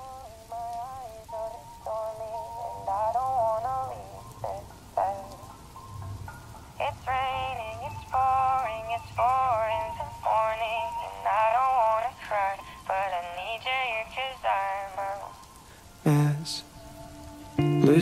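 Steady rain hisses softly throughout beneath a sung pop song, staying constant under the melody and vocals.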